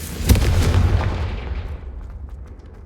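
A Confringo fire spell blasts in the Hogwarts Legacy video game: one sharp, heavy boom that rumbles loudly, then fades over a couple of seconds into a dull roar.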